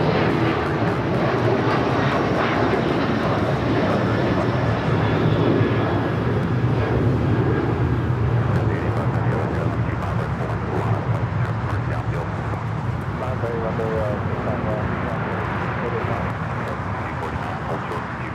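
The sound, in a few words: Boeing 737-800 airliner taking off at LAX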